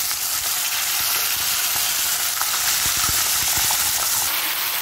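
Spices for a tempering sizzle loudly and steadily in hot oil in a pan for an akkura and tomato curry, with a few faint clinks over the continuous hiss.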